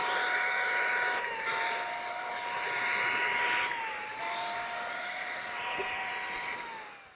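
Airless paint sprayer coating a pool slide, a steady high-pitched whine held at a constant level for several seconds with brief pitch dips, close and loud with no talk.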